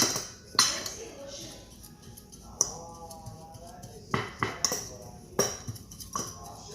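Pork is mixed with salt and spices in a bowl, giving scattered clinks and scrapes of a utensil against the dish, some louder than others, with faint talk nearby.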